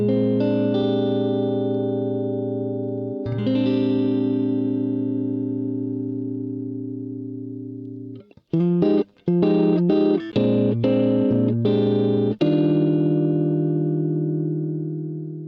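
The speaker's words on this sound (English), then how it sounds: "Another way to play the 13th chord is using the following shape, which sounds a bit richer" A guitar strums a rich 13th chord shape through effects with distortion, chorus and reverb. Two long sustained strums ring out, then a run of shorter choppy strums and a final ringing chord.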